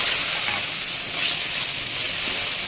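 Fried eggplant dropped into a hot pan for Bengali hilsa curry, giving a loud, steady sizzle and hiss of frying oil close up, with no talk over it.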